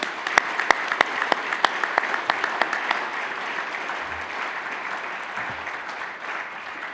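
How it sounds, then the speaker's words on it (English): Audience applause for panelists at a water quality panel event, a steady clatter of many hands clapping that fades gradually, with a few sharp louder claps near the start. "Let's give the panelists a round of applause."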